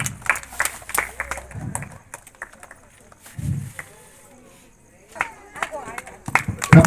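Scattered clapping from a crowd at a rangoli competition prize ceremony in Rekurthi, Karimnagar. It comes in short bursts at the start and end, mixed with speech over a loudspeaker.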